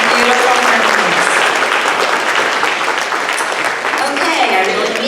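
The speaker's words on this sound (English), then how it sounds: "Let's give a round of applause to the Sounds of Silver" A band concert audience in a school hall applauds with loud, sustained clapping that fills the space evenly, with faint voices mixed into the crowd.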